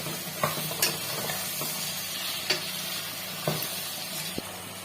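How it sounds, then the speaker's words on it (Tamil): Chopped vegetables, including mango pieces, sizzling in a pan for bisibelebath, with a few sharp scrapes and clinks of the stirring spoon over a steady frying hiss. "எல்லா காயும் போட்டு ஒரு மிக்ஸ் கொடுத்துடலாம்."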